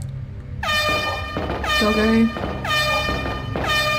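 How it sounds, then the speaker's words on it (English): Loud air horn sound effect blasts three times in a steady rhythm over a Resident Evil 2 (Biohazard 2) game stream, each long harmonic-rich honk cutting in sharply, with a brief spoken word beneath. "Air horns at dawn."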